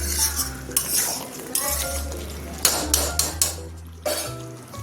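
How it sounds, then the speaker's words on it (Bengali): A metal lid clanks onto a pot of simmering chicken gravy, preceded by clattering of a spoon and cookware; several sharp knocks ring out close and loud with no talking. "আবার ঢাকনা বন্ধ করে দিই।"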